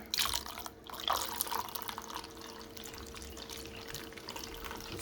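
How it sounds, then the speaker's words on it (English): White vinegar streams through a funnel over basil leaves, giving a soft, continuous trickle and splash with a few sharper gurgles near the start, quiet and close with no one speaking. "Get your vinegar and pour it through."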